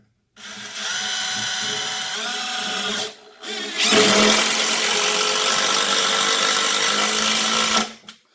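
A Bosch impact driver runs in two long, loud, steady whirring bursts, the first about three seconds and the second about four, with a short pause between them, heard close up during a grid-tie inverter installation.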